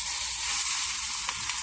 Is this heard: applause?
no